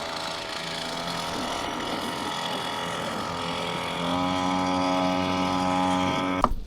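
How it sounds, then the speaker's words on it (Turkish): A long-tail boat motor on a Mako 12 boat drones steadily up close, its pitch rising slightly partway through, with a brief clatter near the end. "Motorun sesi böyle arkadaşlar."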